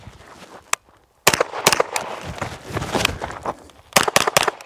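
Pistol-caliber carbine fired during a shooting drill: sharp, loud gunshots, a single shot followed by quick clusters of two or three rounds with short pauses between, then a fast final string.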